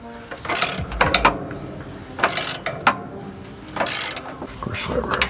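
Bolt being cross-threaded into a Case 590 Super L backhoe hydraulic pump, heard as close ratcheting clicks in three bursts with metallic grinding between them.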